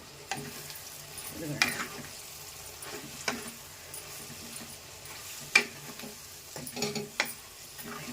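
Dried anchovies (endu nethallu) cooking with onions and green chillies sizzle softly in a pan, with a few sharp scrapes and knocks of a stirring spoon spaced through the quiet frying.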